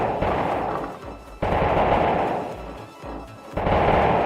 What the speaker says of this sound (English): what if you spam mortar?